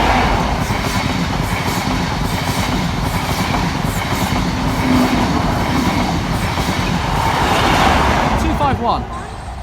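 A train passes close by in the Doncaster area, a loud continuous rumble with clickety-clack wheel rhythm that holds steady throughout and ends with a brief squeal.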